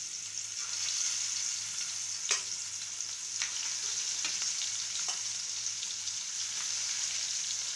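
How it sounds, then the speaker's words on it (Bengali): Spotted snakehead fish fry in a generous layer of hot oil, giving a steady, close sizzle with a few sharper pops and spatters and no voices over it. "আর তেলটা একটু আমি বেশি দিব, এই জন্য যে যেন মাছটা নিচে লেগে না যায়, ভালোভাবে ভাজার জন্য।"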